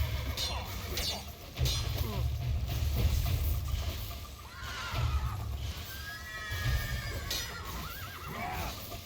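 Horses in The Witcher 3 whinny and neigh several times amid hoof clip-clop and battle commotion, loud and close, with game ambience beneath.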